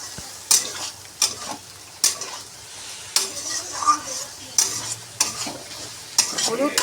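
A spiced filling stir-fried dry in a pan with a little turmeric: a spatula scrapes and stirs in repeated strokes about once a second over a low, steady sizzle, close by.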